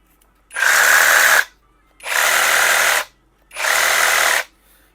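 Procraft cordless reciprocating saw run in three separate bursts of about a second each, a loud, buzzing motor whir with short silent gaps between, close up and with no talk.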